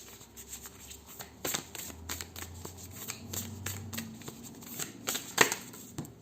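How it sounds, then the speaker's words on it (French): A deck of ancient Egypt healing oracle cards is shuffled and drawn by hand, producing quiet riffling and rustling with a couple of crisp snaps from the cards. "on va prendre une carte de guérison de l'oracle, de guérison de l'Égypte ancienne"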